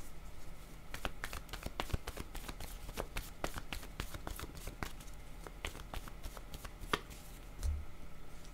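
Playing cards being shuffled during a card reading, a rapid run of crisp riffling clicks and snaps that continue steadily for several seconds at close range, with no voice over them.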